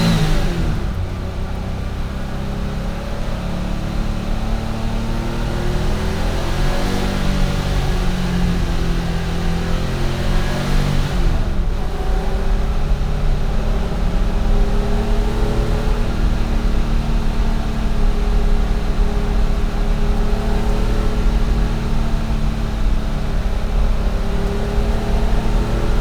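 A 1974 Porsche 911 engine revs and pulls hard through the gears on a drive, loud and close, rising and dropping in pitch with a continuous mechanical roar throughout.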